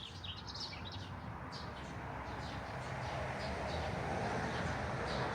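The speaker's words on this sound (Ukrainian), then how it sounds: "І ще чуток соловейка послухаємо" A nightingale sings in a garden washed by rain, its short bright chirps and trills repeating over a steady hiss of background noise, moderately close and clear.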